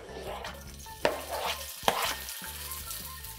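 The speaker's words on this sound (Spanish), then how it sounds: "Vamos a poner la sartén. Un poquito de aceite para poder saltear" Chopped bell pepper sautés in a little oil in a frying pan, giving a steady close sizzle with stirring scrapes. Two sharper clacks come from the utensil against the pan, and no one speaks.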